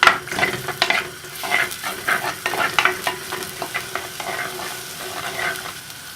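Crushed ginger and garlic fry in oil in a clay pot for a prawn curry, crackling in a loud close sizzle as a spoon stirs and scrapes in uneven bursts.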